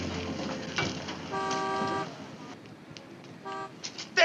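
A bus pulls up amid road noise and gives two short, loud horn honks, the first longer than the second, over a steady background rumble of traffic.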